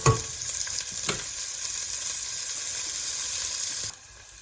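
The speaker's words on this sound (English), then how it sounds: "we can introduce the finely chopped onions into this" Garlic and finely chopped onions fry steadily in a pan of oil, a continuous close sizzle with a few stirring scrapes, cutting off abruptly near the end.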